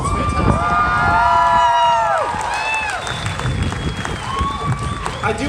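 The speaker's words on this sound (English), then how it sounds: "Give yourselves a round of applause." Crowd at the 2018 March For Our Lives rally claps and cheers loudly, with shrill rising and falling whistles over the roar, which eases slightly after a couple of seconds.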